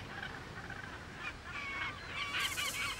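Seagull chicks calling in the wild, a cluster of nasal honking squawks that build and overlap toward the end, moderately near but fairly quiet over a low background rumble.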